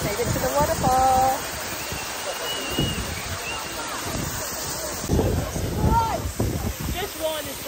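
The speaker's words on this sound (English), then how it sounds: "Made it to the waterfall." Jeongbang Waterfall on Jeju island gives a steady broadband rush of falling water, mixed with gusty wind buffeting, while people talk over it at times.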